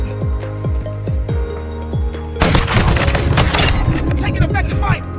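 Loud, rapid gunfire and booming shots rattle through a Call of Duty match, opening with a pulsing rhythmic tone before dense bursts take over, up close.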